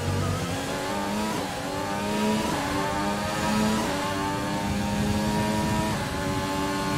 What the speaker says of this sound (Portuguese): O motor sofrendo aqui, só o barulhinho.